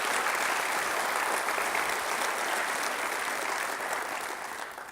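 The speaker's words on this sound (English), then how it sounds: "So let's give them a big round of applause as well." Audience applause at a civic presentation on development projects in Long Beach, a steady wash of clapping from a crowd that holds evenly and begins to taper slightly at the end.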